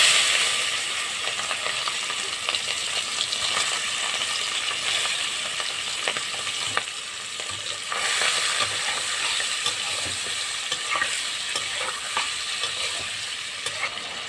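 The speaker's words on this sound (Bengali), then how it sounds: "তেলের মধ্যেই নুন হলুদ মাখিয়ে চিংড়ি মাছগুলো ভেজে নিচ্ছি।" Shrimp tossed in salt and turmeric frying in hot oil in a pan, a loud continuous sizzle and crackle with occasional stirring clicks, close and unbroken with no talk.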